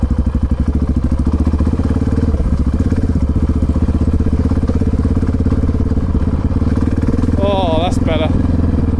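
A Honda XR650R 'Big Red Pig' motorcycle being ridden, its engine a steady, loud, close throbbing drone that holds for the whole stretch, with a brief voice rising over it near the end.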